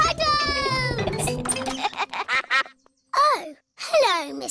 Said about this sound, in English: Oh, hello, Mrs. Duck. What are you doing here?